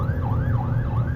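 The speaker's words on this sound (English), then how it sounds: "I hate hearing a siren like that." A wailing emergency vehicle siren rises and falls in steady repeating sweeps, loud and close, heard alone with no voices.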